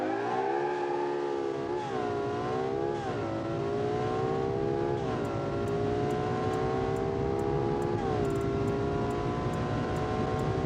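A tuned Lamborghini engine in a video game revs steadily toward top speed, a smooth, sustained drone that climbs in pitch with brief dips at gear changes.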